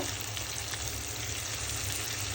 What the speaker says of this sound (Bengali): এখন আমি রান্না করার জন্য ঝোল দিয়ে দিব